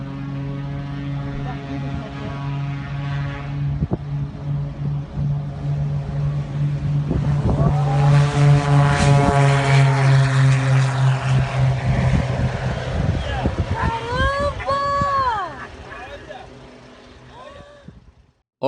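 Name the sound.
twin-engine propeller airplane performing a short takeoff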